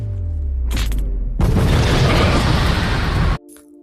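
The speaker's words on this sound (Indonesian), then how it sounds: "bom itu terpicu dan meledak" A loud, sudden bomb explosion bursts out and roars for about two seconds, then cuts off abruptly, leaving a faint low hum.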